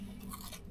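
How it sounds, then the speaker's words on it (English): A single crisp crunch as someone bites into battered fried fish from a fish and chip shop in Golspie, Scotland. It is short and close, with no talking. "Oh, that sounds like a good crunch."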